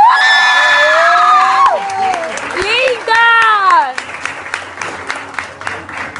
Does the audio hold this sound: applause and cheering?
yes